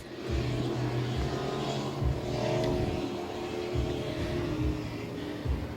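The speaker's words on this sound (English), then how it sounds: "engines looking trimmed very high up, trying to get as much RPM as they possibly can" Racing powerboat engines trimmed high and running at high RPM during a regatta. A steady, loud, droning roar with slight pulsing surges throughout, and no talk.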